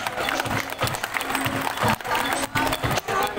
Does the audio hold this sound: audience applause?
yes